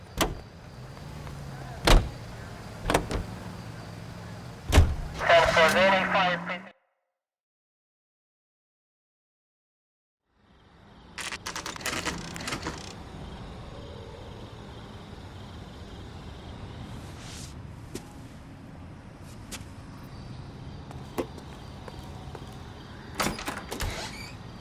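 Car doors and engine in the video game L.A. Noire: a few sharp door thumps and clicks, a silent gap, then a steady car engine hum from driving with occasional knocks.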